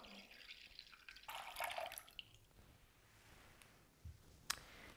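Half a pint of full fat milk pours briefly into a bowl, a soft splashing burst, followed by a few faint drips and light clicks in a quiet room.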